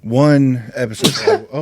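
A single sharp sneeze bursts out in the middle of casual conversation, loud and close, with people talking just before and after it.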